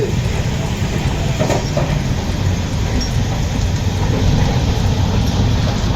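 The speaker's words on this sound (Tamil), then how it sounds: "கன்னியாகுமரி எக்ஸ்பிரஸ் ரயில் சென்னையிலிருந்து கன்னியாகுமரி நோக்கி சென்றது" A Kanniyakumari Express passenger train rumbles steadily along the rails from Chennai toward Kanniyakumari. The roar is loud, close and continuous, with a dense low rumble and faint rhythmic clatter.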